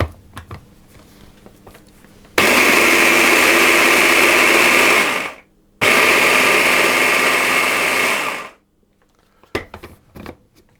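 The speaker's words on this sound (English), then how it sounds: "I'm going to grind that into a powder" Oats are ground into powder in an electric grinder: two loud, steady motor whirs of about three seconds each, separated by a brief pause, with faint clatter before and after.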